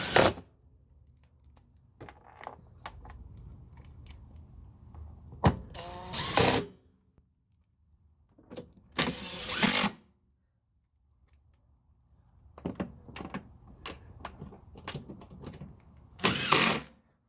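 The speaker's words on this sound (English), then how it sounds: "Let's use the same screws to put everything down." Screws being driven to fasten down a Gio Titan main body panel, heard as three short, loud whirring bursts separated by quiet stretches of soft handling and clicking.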